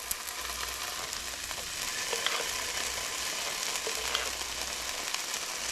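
Onion and garlic fry in a pan for chili, giving a steady, even sizzle with faint crackles and occasional light stirring scrapes.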